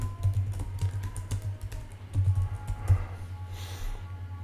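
Someone typing on a computer keyboard into a LinkedIn search box: close, light key clicks in short uneven bursts over a faint low electrical hum.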